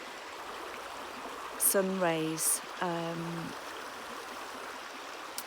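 Flowing river beside trees, a gentle steady rush of water running throughout, with someone speaking softly over it.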